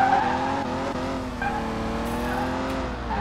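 A BMW drag race car accelerates at an arrancadão drag-racing event. Its engine gives a continuous, loud, rising roar with a slight tire-squeal edge, and no voices can be heard over it.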